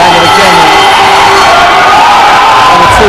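A dense, loud crowd at a live WBC International Super Flyweight boxing championship cheers and shouts continuously, a roaring wall of voices with a commentator talking over it.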